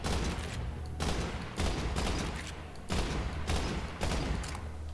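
Gunfire in Borderlands 3, loud bursts of rapid shots coming in repeated volleys with short gaps between them, close and dense, with no talking.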